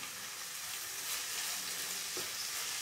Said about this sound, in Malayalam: സവാള നല്ല ബ്രൗണിഷ് നിറം ആവുന്നത് വരെ നമുക്കിങ്ങനെ ഇളക്കിക്കൊണ്ടിരിക്കണം